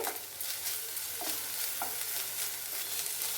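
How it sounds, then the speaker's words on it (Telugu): Onions with salt and ginger paste fry in a pan, giving a steady, soft sizzle broken by repeated spatula scrapes and stirs at an even pace. "కొంచెంసేపు అట్లా వేపుకుందాము"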